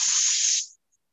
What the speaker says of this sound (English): I kind of gently spray it.